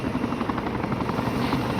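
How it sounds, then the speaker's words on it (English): A military helicopter hovers over an airdrop target during air assault training, its rotor throbbing loudly and steadily over a continuous engine roar, close by, with no talking. "So you saw your helicopter is positioned right over the target"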